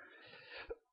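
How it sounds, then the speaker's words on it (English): A single short, rough cough from a person with a sore throat, close to the microphone, fairly quiet, followed by silence. "Excuse me for coughing a lot."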